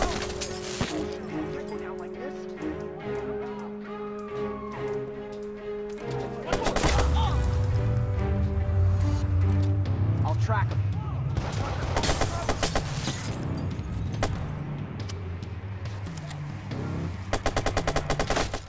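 Gunfire in Watch Dogs crackles in rapid bursts and sharp single cracks over a busy action scene with music and a voice talking over it.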